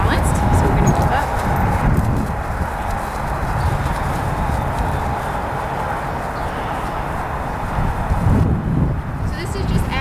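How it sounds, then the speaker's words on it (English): A horse walks up and down an incline during a neurologic movement exam, its hooves clip-clopping steadily under ongoing speech, with light wind noise outdoors. "The last movement test that we're going to do is going to be to watch Teddy as she walks up and down an incline."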